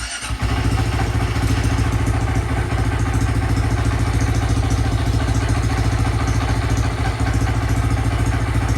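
A Honda Grom SP motorcycle with a Scorpion Red Power aftermarket exhaust idles steadily and close, a deep throbbing exhaust burble with a rapid even pulse that barely changes over several seconds.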